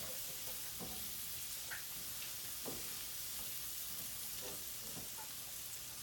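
Garlic sizzling in a pan as it cooks down for a pork chop gravy: a steady, faint frying hiss with a few soft scattered pops and stirring touches, heard alone without speech.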